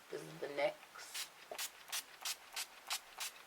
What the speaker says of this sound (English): And I set it with some spray. This is the NYX,